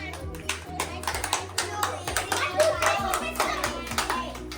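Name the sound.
children clapping exactly seven claps in a birthday game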